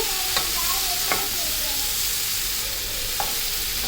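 Vegetables for drumstick sambar being sautéed in a pan, a steady sizzle with a few sharp spoon clicks against the pan, no speech.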